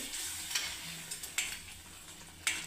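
Masala paste for a spicy black-eyed-bean pod curry stirred in a frying pan over lowered gas, a soft steady sizzle with a few sharp scrapes of the spoon against the pan.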